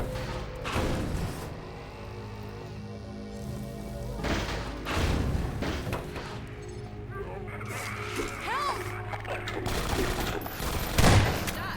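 Gunfire in Half-Life 2 rattles in bursts and scattered shots, some rapid like automatic fire, near and fairly loud, over a rain-like hiss, with a voice briefly speaking.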